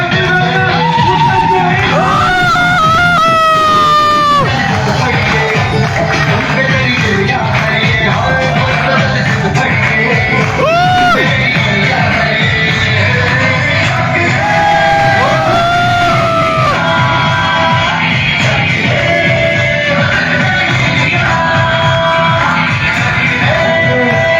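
A large audience at an indoor motivational session in Agra erupts in continuous loud cheering, whooping and shouting for a leader's entrance, with music playing underneath throughout.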